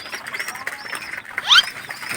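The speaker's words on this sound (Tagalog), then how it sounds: "Ang bihirang kalapati to." Close-up bird sounds with soft fluttering and rustling, and a sharp high chirp midway, as if from pigeons moving about nearby.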